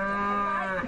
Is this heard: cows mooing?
yes